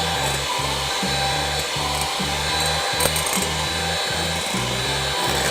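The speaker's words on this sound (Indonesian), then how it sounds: "ini jadi putih telur sama garamnya itu dikocok sampai setengah mengembang terlebih dahulu" An electric hand mixer beats egg whites with salt in a bowl, giving a continuous close motor whir with a regular pulsing, rattling rhythm as the beaters churn the half-whipped foam, with no talk over it.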